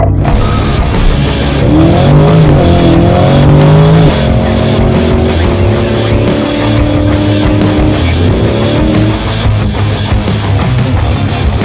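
A Chevrolet Corvette C8 accelerates at full throttle on a performance driving school track, its engine loud and close as it revs up through the gears with quick shifts and a sustained roar.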